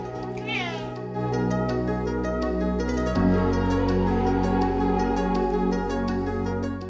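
A cat in New Zealand's South Island gives a clear, close meow near the start, with sustained steady tones running underneath throughout.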